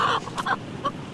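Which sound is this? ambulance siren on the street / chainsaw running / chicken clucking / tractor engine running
chicken clucking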